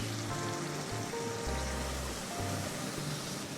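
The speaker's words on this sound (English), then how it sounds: "Now I'm gonna add some water because it's so thick." Water poured into a thick tamarind chicken stir fry in a Malaysian nyonya dish, giving a steady close splashing and sizzling wash that runs the whole time, with no talk.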